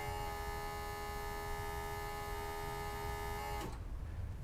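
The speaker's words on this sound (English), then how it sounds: "That was the sound of my brake vacuum booster pump." A steady electric whine from a brake vacuum booster pump in an electric car, running for about three and a half seconds and then cutting off abruptly, leaving a faint low rumble.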